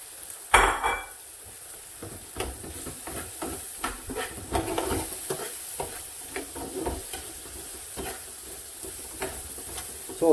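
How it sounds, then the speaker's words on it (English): Chopped tomatoes frying in a pan for chicken tikka naga bhuna, with a continuous close sizzle and hiss and repeated scraping stirs of the utensil against the pan, and no talking. "Next, in with your chopped tomatoes."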